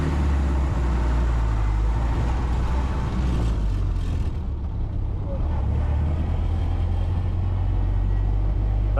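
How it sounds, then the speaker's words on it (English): A 1931 Ford Model A engine cruising at low RPM around 40 mph, a steady loud low drone with road rumble throughout, heard from inside the car. "This is what this car likes to do, is just cruise."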